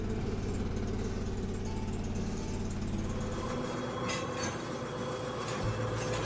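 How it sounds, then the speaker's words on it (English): Zeder Proxima 6441 tractor pulling a Schwietmaker Fido 40 feed wagon collecting hay, grass and silage corn, a steady loud mechanical engine rumble with clanking and rattling that shifts partway through, no talk. "the Zeder Proxima 6441 tractor, combined with the Schwietmaker Fido 40 feed wagon, collects dry hay, grass, and silage corn for livestock feed"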